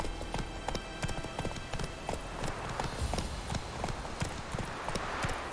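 Horse hooves clip-clopping at a walk in The Witcher 3 video game, a steady even rhythm of close, crisp hoof strikes running throughout with no voices over them.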